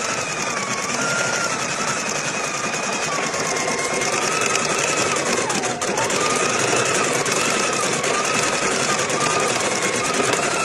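A sewing machine hums continuously and loudly, stitching the ears of a dog pillow, with a steady mechanical drone and faint whirring tones that rise and fall throughout.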